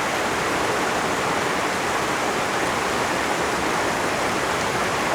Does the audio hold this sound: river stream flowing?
yes